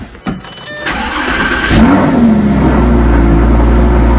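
A Lamborghini engine cranks and fires, then rises into a loud, steady rev that holds close and dominant to the end, with no voices.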